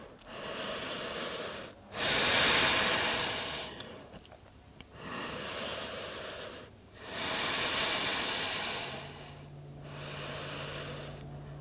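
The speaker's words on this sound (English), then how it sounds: "Breathe here." Deep, audible breathing during a held yoga pose in an eagle pose sequence, slow alternating inhales and exhales, each a long airy hiss of several seconds, close and fairly loud with no speech.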